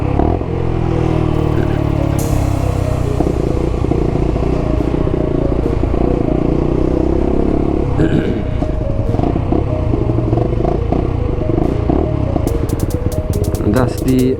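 Lexmoto motorcycle filtering through traffic, a loud steady engine drone with wind buffeting and rattling, a rider speaking over it, and faint clicks near the end.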